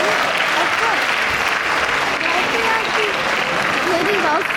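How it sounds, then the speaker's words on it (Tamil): Continuous applause fills a Tamil school graduation hall, even and sustained throughout, with a voice speaking over the clapping. "ஒரு பலத்தை கைத்தட்டி கொடுக்கலாம்"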